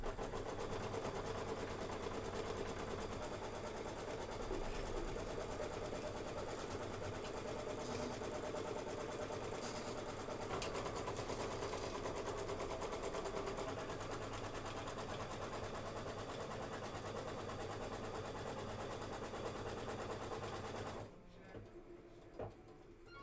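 A sewing machine runs steadily as it stitches the tack-down step on a Kimberbell quilt project, a continuous mechanical whir that holds for most of the span and then stops near the end, with faint talk underneath.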